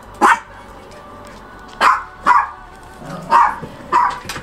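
Several dogs barking at a headquarters porch, five sharp, close, loud barks spaced irregularly over a few seconds, with no talk.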